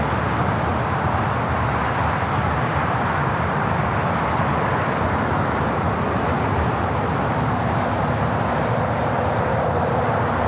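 A 24-year-old Boeing 777-200ER airliner arriving at LAX from JFK gives a loud, sustained jet roar close by, broad and steady throughout with no speech.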